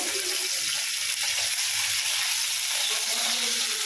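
Fish fries in a pan, a steady, dense sizzle that holds at an even level throughout with no pauses or voices.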